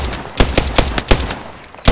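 Rapid bursts of gunfire from the Wolf Apex video game: a string of loud, sharp shots about a quarter second apart, close up and punchy, with no talking over them.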